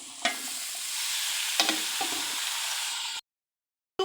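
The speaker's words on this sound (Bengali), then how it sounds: "খুব ভালো করে নাড়াচাড়া করে আমি ঝরঝরা করে শাকটাকে ভাজি করে নেব" Boiled bottle gourd leaves stir-fried with browned onion and garlic: a steady sizzle broken by a few sharp scraping spatula strokes, ending abruptly in silence.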